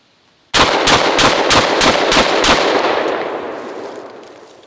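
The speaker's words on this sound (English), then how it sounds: "it cycled all 7 rounds of number 8 Birdshot just fine with the stock OEM spring that came with the gun" Panzer Arms Benelli M4 clone semi-automatic shotgun firing seven rounds of number 8 birdshot in a fast, even string of loud, close blasts, the last shot's echo trailing off.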